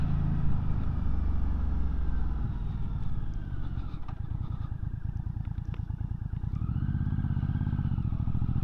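An MBP C1002V motorcycle engine under way, a steady throaty drone that climbs in pitch as the rider revs toward the top of the range, then settles back, close and continuous.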